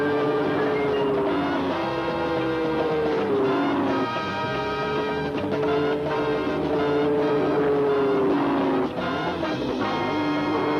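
Porsche production cars, prototypes and 1,000-horsepower racing machines run on a test track, a continuous engine drone with shifting pitch as gears change and revs rise and fall, steady and moderately loud throughout.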